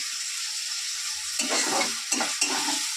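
Potatoes fry in hot oil in a pan with a constant sizzle, broken by three bursts of a spatula scraping and stirring them up close.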